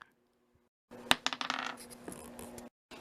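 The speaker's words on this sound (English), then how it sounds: "it's time to finally roll one of the dice" A single die is rolled onto a hard surface, clattering through a quick burst of bounces before rattling to rest, close up and alone against near silence.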